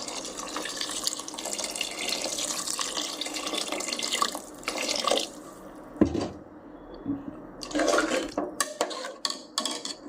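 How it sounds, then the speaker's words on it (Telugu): Water splashes and pours steadily into a metal pot of mushroom biryani, then breaks into a few shorter bursts and drips with brief pauses between them. "ఇప్పుడు కొంచెం నీళ్ళు పోసేస్తా."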